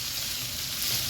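Zucchini and onions frying in a pan as they are stirred, a steady, dense sizzle filling the whole moment, close and loud with no talking.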